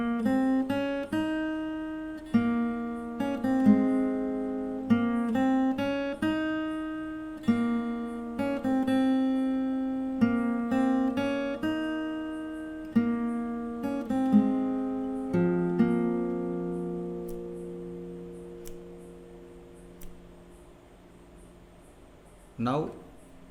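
Fingerstyle acoustic guitar plays a melody alone, plucked notes in a steady phrased rhythm, close and clear, the last notes ringing out and fading before a brief knock at the end.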